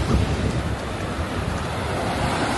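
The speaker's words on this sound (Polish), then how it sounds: "ale nam się dzisiaj trafiły mega fale" Big sea waves break on a Tuscan beach near a campsite, a loud, continuous roar of surf mixed with heavy wind buffeting the microphone.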